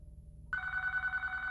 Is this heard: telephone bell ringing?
yes